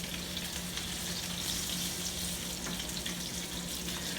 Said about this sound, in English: you see it's cooking right now in the pot